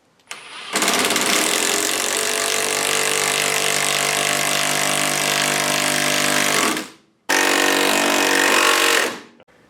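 A power tool hammers continuously for about six seconds to tighten a sway bar nut during an LS swap, then stops briefly and fires again for a shorter, equally loud burst. The rattling is close and harsh, and no one speaks.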